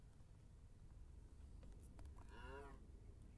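A single Minecraft cow moos once in a soft, drawn-out call over a steady low background hum, quiet and brief.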